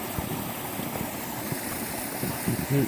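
Waterfall at Tarra Falls pouring steadily in a cool, sheltered spot, a constant broad rush of water close by, with a few soft knocks and a brief low murmur near the end.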